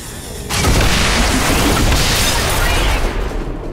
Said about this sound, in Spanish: Pensaba que ahí no me daba la explosión, pero sí, me ha dado.